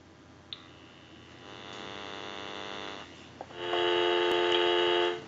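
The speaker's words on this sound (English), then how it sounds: "Let's give you some dial tone." A steady electronic dial tone from a General Electric cordless telephone hums continuously, growing louder partway through, with a couple of brief clicks and no voices.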